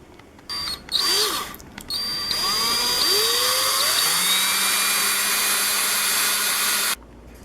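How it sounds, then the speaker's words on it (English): A power drill with a 5/8 inch bit whirs up in short bursts, then bores steadily through a wooden wand blank with a rising whine before cutting off abruptly. It is close and loud. "I'm going to be using a 5/8 inch drill bit"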